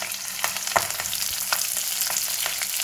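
Green chillies frying in oil with browned chana dal and urad dal, a close, dense sizzle with sharp crackling pops and a few spoon stirs, continuous over a few seconds without talk.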